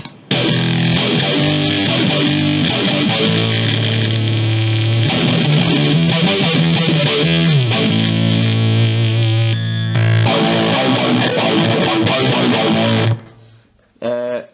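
A growling bass synth line from a Digitech Bass Synth Wah pedal sweeps through a wah filter into heavy distortion, playing continuously and loud with a brief drop near the end.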